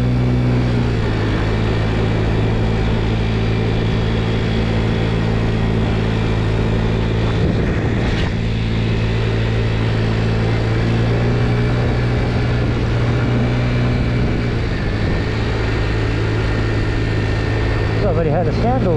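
A 50cc scooter rides along a canal bank near Turlock, California, its small engine droning steadily and loudly throughout, with constant wind-like rumble and no break in the motor note.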